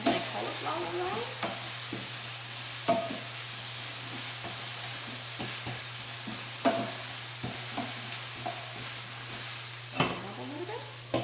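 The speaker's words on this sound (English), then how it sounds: "I'm gonna cook it for a little longer. Add my cauliflower rice." Cauliflower rice sizzles and fries steadily in a hot pan, with a constant hiss broken by scraping stirs and occasional sharp clacks of a utensil against the pan.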